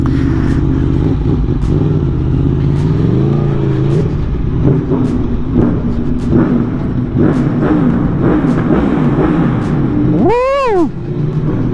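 An Aprilia Tuono motorcycle engine drones steadily and loud while riding, with a few pitch swings as the revs change and a sharp rising then falling rev burst near the end, heard close with wind and road noise and no talk.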